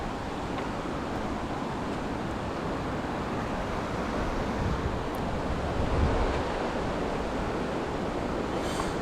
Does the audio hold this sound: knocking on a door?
no